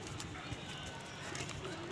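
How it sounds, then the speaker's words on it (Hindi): Pigeons at a pigeon club coo softly amid a noisy, steady background murmur, with a voice nearby. "ये देखें कबूतर है, बहुत प्रवासी कबूतर है ये वाला।"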